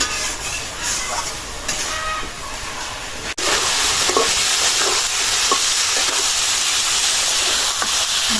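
Spices and potatoes being sautéed (kosha) in a pan, a steady loud sizzle with stirring scrapes, dropping out briefly before resuming stronger.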